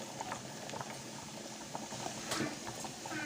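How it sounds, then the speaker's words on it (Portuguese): Garlic browns in lard in a pan for Brazilian beans, a faint, steady sizzle with soft crackles and small pops throughout, close by with no talking. "Então eu vou dar uma douradinha no alho com a banha"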